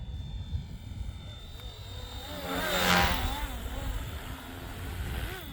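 A Flywing FW450 RC helicopter flying at full speed makes a steady whirring drone that swells as it passes closest, with a rising and falling Doppler sweep before it fades slightly.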